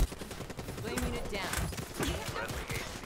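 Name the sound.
gunfire from a gun in a video game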